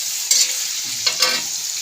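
Rice stirred in a hot pan makes a short, close sizzle with two or three quick scraping strokes from a spoon.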